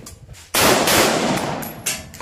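M16A rifle gunfire on an outdoor marksmanship range: one sharp, loud shot cracks out and rings on with a long echo, then a second blast follows near the end, both with no talk.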